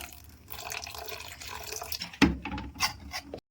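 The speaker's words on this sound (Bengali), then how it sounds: "জল দিয়ে দিচ্ছি" Water poured into a bowl of dosa batter, a trickly liquid pour and drips with a few louder splashes near the end, close and fairly quiet, with no one speaking.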